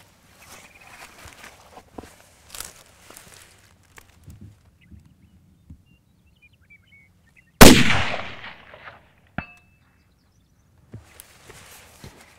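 A single loud rifle shot cracks sharply and rings off a steel plate, followed a moment later by a fainter metallic impact, amid a quiet outdoor hunting setting with scattered soft rustles and footsteps.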